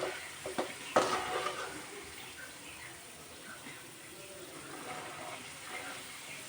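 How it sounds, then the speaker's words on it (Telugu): Sweet corn kernels frying in hot oil, a steady close sizzle broken by a few sharp pops near the start, then continuing as a softer crackle. "ఇలా అయితే వేగుతున్నాయి. కొంచెం దూరం నుంచి తీయండి, ఇవి మధ్య మధ్యలో పేలుతున్నాయి"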